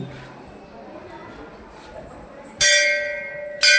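A temple bell at Kanifnath temple in Madhi rings out twice, loud and close, with long shimmering tones after each strike, over a soft murmur of voices in the background.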